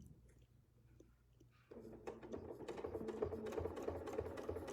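A sewing machine doing free-motion quilting starts after a quiet moment and runs as a fast, steady mechanical stitching hum with rapid needle taps, close and gradually louder.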